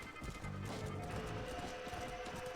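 Horse hooves clip-clopping at a steady trot or gallop in the Red Dead Redemption: Undead Nightmare video game, played continuously against a busy game soundscape with a faint tone in the background.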